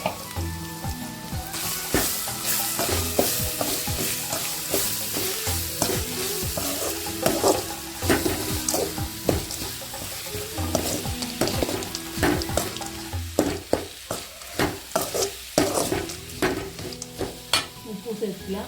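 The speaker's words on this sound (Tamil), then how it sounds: "மாங்காய் போட்டுக்கலாம்." Raw mango pieces fry and get stirred in a pan for mango rice, a continuous close sizzle broken by frequent scraping and clattering stirs throughout.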